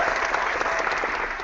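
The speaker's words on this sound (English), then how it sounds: "A round of applause for that man there." Dense applause from a studio audience for a contestant on a retro FIFA video game quiz show, steady and close throughout, with no voices.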